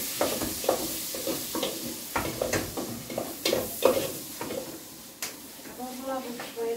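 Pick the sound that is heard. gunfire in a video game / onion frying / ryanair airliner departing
onion frying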